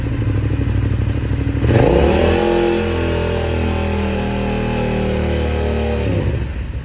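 A motorcycle engine with a stuck throttle holds high revs, a steady loud droning roar close by that lifts sharply partway through and stays elevated without dropping back to idle.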